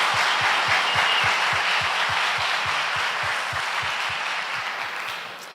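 Applause from a church congregation fills the space, with a steady, rhythmic low thump beating beneath the clapping and the sound slowly tapering off toward the end.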